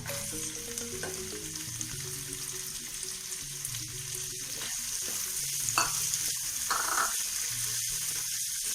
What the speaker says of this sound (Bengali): পেঁয়াজটা আমি 2-4 মিনিট ফ্রাই করে নিয়ে তারপরে আসছি।